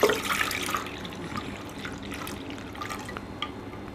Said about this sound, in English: Now we're gonna put half of the milk I have.